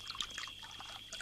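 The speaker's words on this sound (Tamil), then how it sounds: "ஃபுல்லா ஊத்து." Liquor pours into a glass, a faint close trickle with bubbly splashes, brief and quiet.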